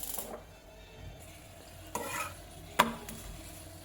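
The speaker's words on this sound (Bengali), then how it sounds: "একটা রুটি বের করছি, এখানে তরকারি আছে, রুটিটা এখন আমি ভাজবো" A roti fries in a pan at home with soft sizzling underneath, a few stirring scrapes and a sharp utensil clink near the end, fairly quiet overall.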